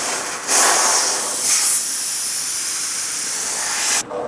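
Compressed air from a shop compressor blasts over a car headlight to dry it during restoration, a steady loud hiss with brief surges, running alone without talk.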